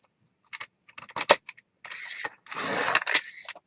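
Paper strip for a junk journal being cut with scissors: a few soft, sparse snips and clicks, followed by longer rasping cutting strokes near the end, close and quiet with no talk.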